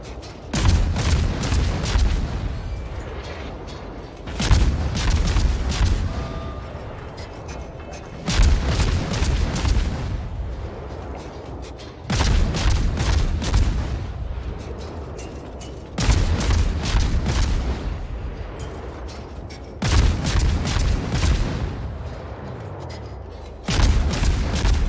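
Warship guns fire in World of Warships aboard the destroyer Khabarovsk, as a steady series of heavy, booming salvos about every four seconds, each loud blast rumbling and decaying before the next.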